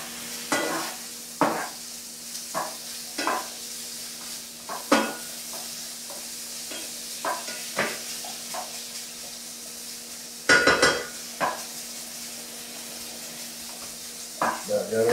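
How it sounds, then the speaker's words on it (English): Sausage browning in a pan for shrimp and grits: a steady low sizzle runs throughout, broken by repeated close scraping stirs and utensil clacks against the pan, with occasional speech. "About got our sausage brown good."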